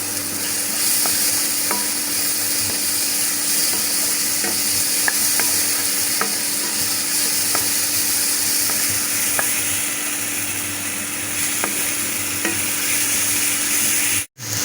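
Ground spices for a jackfruit curry frying in hot oil, giving a loud, continuous close sizzle with faint periodic scrapes of stirring, running steadily without speech until a sudden cutoff at the end.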